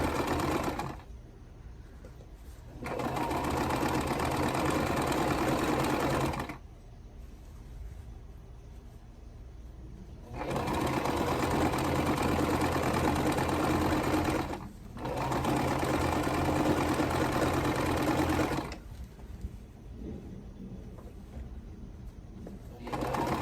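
A sewing machine stitches a quilt row for a Bee in my Bonnet butterfly block, running in several steady multi-second bursts with quiet pauses between, up close.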